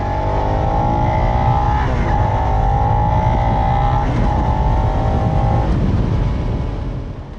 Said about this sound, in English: Hearing the SV650X start up is like hearing an old friend speak for the first time in several years